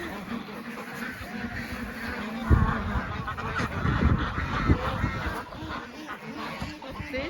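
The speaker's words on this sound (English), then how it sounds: "all of those little geese are now so big and matured" Geese honking on a farm, a cluster of mid-pitched calls sounding over a steady outdoor background, with a louder burst of honks partway through.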